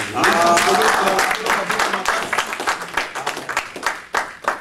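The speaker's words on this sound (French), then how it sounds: "Est-ce que nous pouvons encore acclamer très fort?" Church congregation applauding and cheering loudly, dense sustained clapping that thins into scattered claps toward the end, with voices mixed in.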